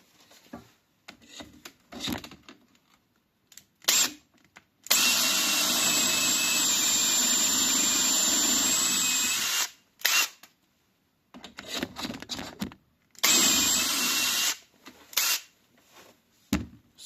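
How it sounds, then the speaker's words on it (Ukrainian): A power drill whirs steadily for about five seconds as it drills into clamped wood, then a second shorter burst, with scattered clunks and handling noises around it. "Ось так я закріпив струбциною і вже можна спокійно свердлити."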